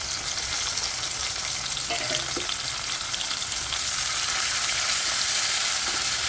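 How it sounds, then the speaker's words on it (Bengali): Bitter gourd frying in a wok of oil with whole coriander and cumin seeds, a steady dense sizzle throughout with a brief clink of a utensil, close and loud with no speech. "কড়াইতে যে পরিমাণে তেল আছে আর গোটা ধনে আর গোটা জিরে রয়েছে, তার মধ্যে করলাগুলোকে ভালো করে ভেজে নেব।"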